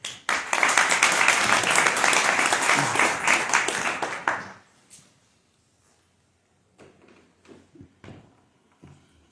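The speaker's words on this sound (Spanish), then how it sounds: "para quien les pido un fuerte aplauso" Loud, sustained applause from the audience at a book presentation at the Filbo 2023 book fair fills the first four and a half seconds, then drops away to near silence with a few faint knocks and shuffles.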